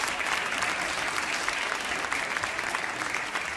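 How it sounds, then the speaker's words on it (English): An audience applauds steadily for a dear father at a Shia devotional gathering, a dense, even wash of many hands clapping that holds from start to finish with no pause. "Guys, a round of applause for the dear father as well"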